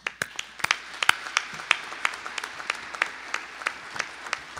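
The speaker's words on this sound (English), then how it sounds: "Let's give an applause and thanks to all of your family and friends." Graduates' family and friends are applauded at a School of Business commencement ceremony, a sparse scatter of distinct hand claps in an uneven rhythm, fairly faint and roomy.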